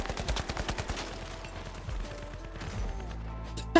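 GOO blobs are shot and broken apart in the video game The Finals, a rapid burst of sharp gunfire cracks at the start followed by crunching, rumbling destruction and a final loud hit.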